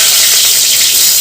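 Dried red chillies sizzle hard in hot oil with popped mustard seeds, a loud, close, steady frying hiss with no voices.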